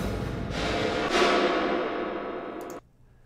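An early version of the kCathedral reverb plugin from Airwindows processes a dense, bright source for nearly three seconds, swelling at one point, then cuts off abruptly to near silence, with no one speaking.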